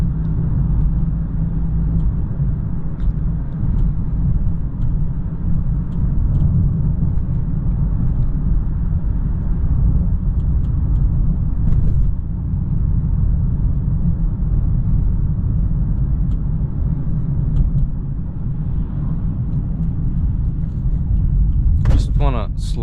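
2022 Ford Maverick Lariat driven at night, heard from the cabin as a steady low road and engine rumble with tire noise throughout, a few faint clicks and a brief sharper sound near the end.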